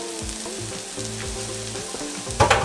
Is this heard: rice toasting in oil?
yes